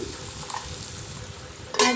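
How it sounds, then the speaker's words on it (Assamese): Tomatoes frying with crushed ginger and garlic in a pan, a soft continuous sizzle with light stirring, ending in a louder burst of scraping and sizzle near the end, without speech. "সেইখিনি দি লোৱাৰ পাছত পুনৰ অলপ মই ভাজি"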